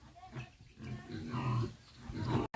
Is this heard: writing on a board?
no